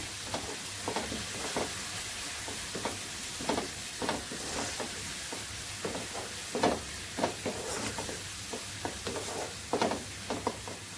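Spices being stirred in a cooking pan, a steady soft sizzle broken by repeated scraping strokes of a spoon at an uneven rhythm, close and moderately loud, with no talking.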